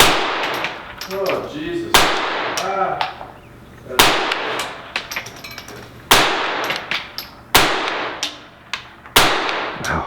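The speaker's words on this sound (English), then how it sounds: "I was startled by gunshots" Sharp rifle shots crack out close and loud at intervals of about two seconds, fired at ground squirrels in a ranch's front yard, with a startled voice exclaiming between them.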